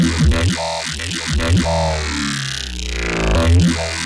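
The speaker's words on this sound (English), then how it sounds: "it's going to give you those really like cool synced up vowel sounds" Thick, buzzy dubstep synth bass growls from Massive with a shifting vowel-like filter sweep, the tone morphing between 'wah' and 'oh' shapes over a few seconds, loud and up front.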